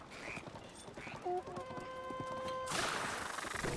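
Horse hooves clop along in The Legend of Zelda: Breath of the Wild. The beats are soft and steady under a sustained tonal game sound, and a broad noisy wash rises at the end.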